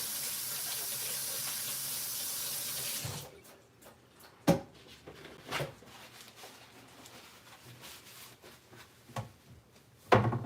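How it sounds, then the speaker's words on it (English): Kitchen tap running steadily as hands are washed, a broad rushing hiss for about three seconds before the water stops, followed by scattered clatters and knocks. "Let me wash my hands up really fast."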